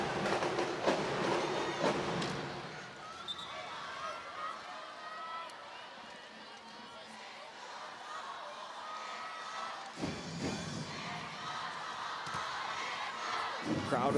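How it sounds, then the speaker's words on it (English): A crowd at a professional women's volleyball finals match between Choco Mucho and Creamline fills a large arena with a continuous roar of cheering, swelling and dipping, with a sharper burst near the end, under ongoing commentary. "Crowd of Choco trying to will their team back into this 4th set."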